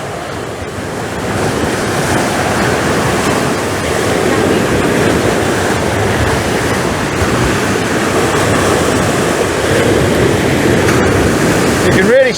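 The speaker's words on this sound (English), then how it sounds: "the waves that are breaking out to sea are actually hitting each other and sending the spray over" Sea waves crash against the Dawlish seawall and throw spray over it, a loud, continuous roaring wash of surf and wind with no pauses, close to the microphone.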